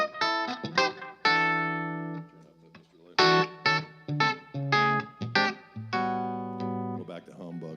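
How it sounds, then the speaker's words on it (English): Electric guitar with coil-tapped Fishman Fluence humbucker pickups plays a run of bright, twangy chords and short stabs through effects, with some notes left ringing and others clipped short, loud and close, in a live music setting. "I can coil tap these rascals and sound like this."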